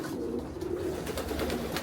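Breeding hen pigeons cooing inside a loft, soft low throaty coos overlapping in a steady murmur, close and moderately quiet with faint rustling.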